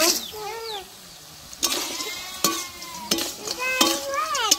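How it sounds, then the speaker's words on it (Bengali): Cleaned, salt-washed crab goes into hot spice paste in a pan, giving a sizzle with repeated scraping stir strokes and clatter, no talking. "এখন আমি কাঁকড়া পরিষ্কার করে ধুয়ে নিয়েছি লবণ দিয়ে, এখন আমি দিয়ে দিব।"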